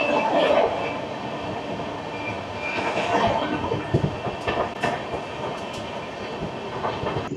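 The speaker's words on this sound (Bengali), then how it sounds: "আমাদের ট্রেন এই মুহূর্তে পার করছে দুর্গাপুর স্টেশন।" The Sealdah–Bikaner Duronto Express, heard from on board as it passes through Durgapur station, rumbles steadily at moderate volume with rhythmic wheel clatter and a few sharp squeals and clanks over the running noise.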